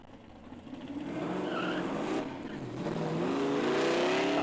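1967 Cougar daily driver with a 302 V8, T5 gearbox and 9-inch rear, launching at a drag racing event, engine note rising from a low rumble to a loud sustained wail as it accelerates away.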